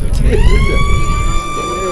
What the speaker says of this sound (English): Siren is underway here and we are now ready to go.